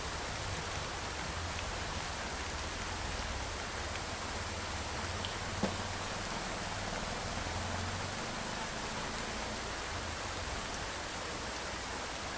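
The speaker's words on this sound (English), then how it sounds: "This is natural rain." Steady monsoon rain falls in front of a working room beside a pathway and water body in Bangladesh, a dense, even hiss that holds constant throughout with no voices.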